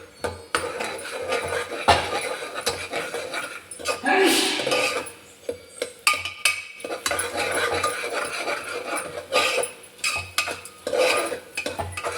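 Spoon scrapes and clinks in a pan as ginger garlic paste is stirred for mutton liver curry, irregular knocks and rattles near and fairly loud, with stretches of quieter sizzling between them.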